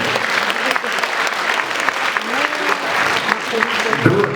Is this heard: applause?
yes